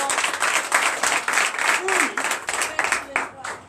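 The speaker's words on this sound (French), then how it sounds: "Donnez l'acclamation." A church congregation at a Sunday service in Comè, Benin, claps in rhythmic bursts, close and fairly loud, with a voice briefly heard in the middle.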